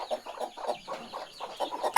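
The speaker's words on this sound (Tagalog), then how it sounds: "Oh, tignan nyo, ang dami niyang manok." Many chickens cluck in a steady stream of short, close calls inside a backyard coop on a farm.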